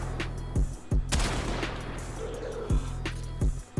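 Rubico Prime sniper rifle shots fired in Warframe, several sharp loud cracks spaced irregularly over a steady low in-game hum, with no talking.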